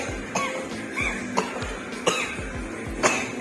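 Repeated coughing, about six harsh bursts at irregular intervals, close and fairly loud against quiet background.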